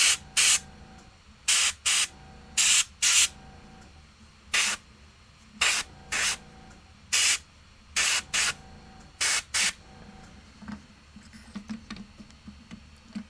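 Airbrush spraying paint onto a Catachan Jungle Fighters miniature in repeated short bursts, sharp bright hisses separated by quiet gaps, close and alone, fading to fainter spatters near the end.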